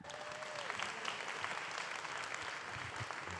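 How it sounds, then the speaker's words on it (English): Steady applause fills a formal evening gala as the incoming chairman of a university foundation board is introduced, dense and even clapping from a large audience holding at one level throughout. "let's give a round of applause for the incoming chairman of the WVU Foundation Board of Directors"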